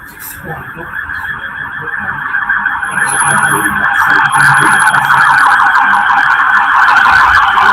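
An ambulance siren wails in a steady repeating cycle, growing louder and nearer across the span and staying loud to the end, with faint voices underneath.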